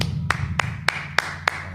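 Six sharp, evenly spaced claps ring out about every third of a second over a low steady hum, at a Sabbath service congregation.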